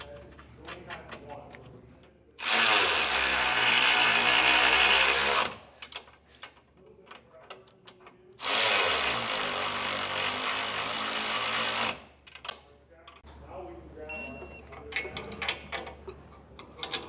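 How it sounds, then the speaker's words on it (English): Two loud bursts of a power tool torquing flange-nut bolts on a MORryde X-Factor crossmember under a 2018 Highland Ridge Mesa Ridge RV, each run lasting a few seconds with quieter shop noise between. "then these will be torqued as well"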